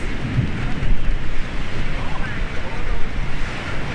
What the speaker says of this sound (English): What a strange storm.